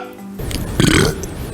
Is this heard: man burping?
yes